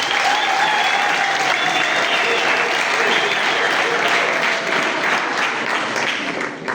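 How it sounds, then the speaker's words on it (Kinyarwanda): Applause from a crowd at a scout week event in Rusizi, Rwanda, dense and sustained throughout, staying loud before easing slightly toward the end. "Amashyi y'Akarere Rusizi."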